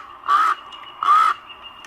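A crow-like bird perched above a bald eagle nest at Big Bear Lake gives two loud, harsh caws about three-quarters of a second apart, close and clear with no talking.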